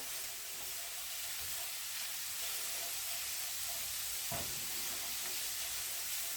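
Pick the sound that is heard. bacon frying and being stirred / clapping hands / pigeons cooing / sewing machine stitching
bacon frying and being stirred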